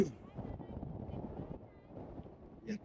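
Wind buffets the microphone beside San Francisco Bay, a low, uneven rumble that gusts and eases over the few seconds.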